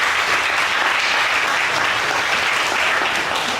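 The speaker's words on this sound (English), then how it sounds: "Give yourselves a round of applause." A crowd of parents at a city council meeting applauds loudly and continuously, a thick, even roar of clapping from many hands throughout.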